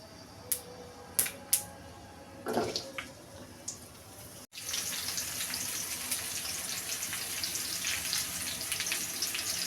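A few light clicks and clatters come first, then a kitchen tap opens to a steady, close rush of running water as cut pointed gourd and potatoes are rinsed.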